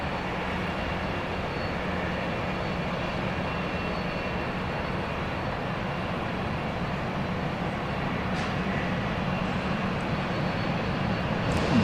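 An airplane at Dallas Love Field airport gives off a continuous broad engine roar, steady and moderately distant, filling the whole stretch without pause.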